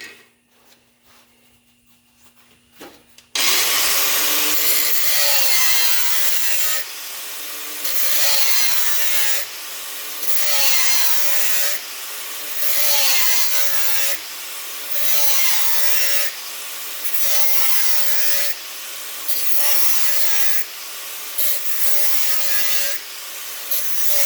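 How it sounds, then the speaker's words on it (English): A cutting wheel slices through a steel body mount, working with just the bottom edge of the wheel, a loud sustained grinding whine that swells and dips in repeated strokes after a brief quiet start. "All I'm using is the very bottom of the cutting wheel."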